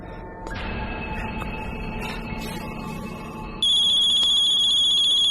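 A telephone rings loudly and close by in a tense horror-movie scene, a steady electronic tone that shifts to a higher, brighter ring partway through.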